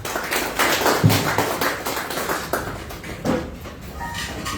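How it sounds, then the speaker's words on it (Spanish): Audience applause at an evening testimony gathering of a fraternal group, a continuous, moderately loud patter of many hands clapping that slowly thins toward the end. "lo recibimos con un fuerte aplauso"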